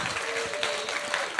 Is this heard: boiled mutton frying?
no